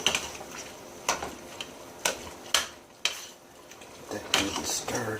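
Spaghetti sauce being stirred in a pot, with a spoon clinking and scraping against the pot's sides in several separate knocks and strokes, close and fairly quiet.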